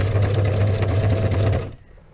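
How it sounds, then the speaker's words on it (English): A sewing machine runs a straight stitch while making big boho fabric tags, a steady close mechanical hum with rapid needle clatter for under two seconds before stopping abruptly, with no talk. "now I've gone from zigzag to a straight stitch"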